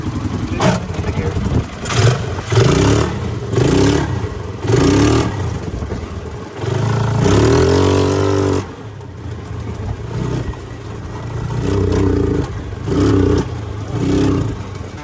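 A Polaris 500 golf cart engine revs repeatedly as it drives, rising and falling in rhythmic pulses with a longer sustained rev in the middle, close and fairly loud, with some speech mixed in.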